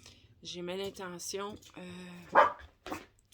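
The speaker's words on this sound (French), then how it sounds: "je suis désolée pour mon petit chien, elle s'énerve." A small dog barks and yips several times indoors, sharp close bursts interleaved with someone speaking calmly over it.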